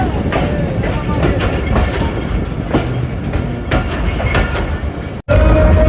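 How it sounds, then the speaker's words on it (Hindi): Tezgam passenger train with a GU40 9031 locomotive at a station platform, loud rumbling railway noise with rolling clatter and a few hissing bursts, then a brief cut to a steadier hum; no talk. "8 डाउन तेज़गाम GU40 9031 लोकोमोटिव खड़ा है जी"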